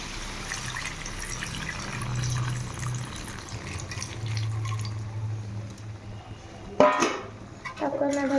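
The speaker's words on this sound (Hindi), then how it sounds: "1 कप पानी ऐड करना।" A cup of water is poured into a pan of chicken curry on the stove, making a splashing, gushing pour against steady kitchen background noise, with a sharp clatter near the end.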